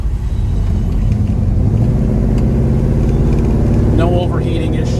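A 1972 Chevrolet Chevelle engine idles on a hot day, a loud, steady, deep rumble close by that holds even throughout.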